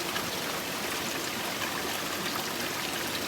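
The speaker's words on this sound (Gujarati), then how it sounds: "એના મૂળિયામાંથી પાણી આવે જો બધામાંથી" Steady rushing water pours and trickles from the roots of a tree near a waterfall, a dense, continuous wash of sound with no pauses.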